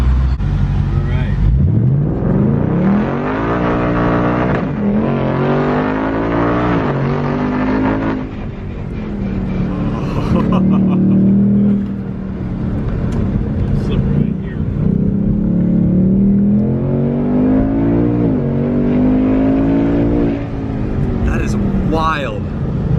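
A 2024 Ford Mustang Mach 1 with a 10-speed transmission, driven hard through a turn, its engine loud and rising and falling in pitch as it revs and shifts, with people talking over it throughout.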